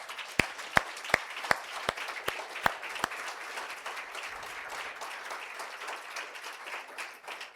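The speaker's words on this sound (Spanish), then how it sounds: "Dele un aplauso al Señor." A church congregation claps for the Lord during a service in Cancún, starting with a run of sharp, evenly spaced claps that give way to softer scattered applause, moderately distant.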